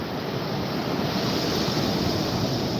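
Big ocean waves breaking on Topsail Beach, a steady, dense wash of surf with some wind noise, continuous and fairly loud with no voices.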